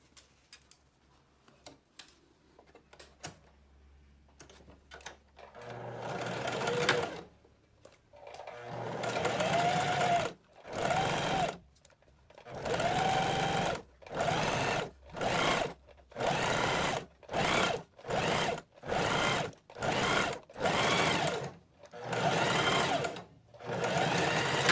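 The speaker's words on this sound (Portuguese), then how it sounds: "Tudo já alfinetado, agora vamos fazer uma costura." Sewing machine stitching a seam on a blouse with a horizontal cut panel, a close, loud rapid whirring that runs in a regular series of short bursts separated by brief stops, after a quiet stretch with faint clicks.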